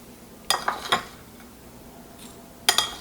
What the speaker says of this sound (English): After that, you just stir it up evenly.